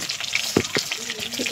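Food frying in a pan in a home kitchen, a soft continuous sizzle with a few sharp scraping stir strokes and clinks in the middle, fairly close and moderately loud.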